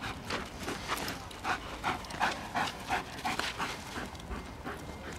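A Belgian Malinois in guard-dog training pants rapidly and steadily at close range, a rhythmic run of quick breaths with a faint whimper here and there.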